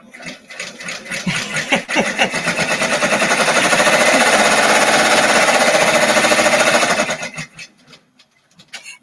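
A sewing machine stitches stippling on a quilted Christmas tree skirt. Its rapid rhythmic clatter ramps up, runs loud and steady for about five seconds, then winds down to near silence.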